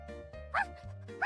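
Two short, faint dog barks from the video game Hanako's Flower Shop, spaced about half a second apart over a low, quiet background.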